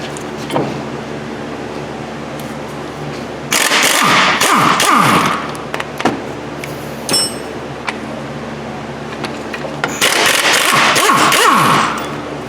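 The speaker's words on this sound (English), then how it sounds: "We got an ugga-dugga gun right here with a swivel, guaranteed to hurt you." An impact wrench with a swivel fitting, used on a Nissan Maxima front brake job replacing pads and rotors, fires in two loud rattling bursts of about two seconds each, separated by quieter shop background noise.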